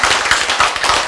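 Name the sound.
audience clapping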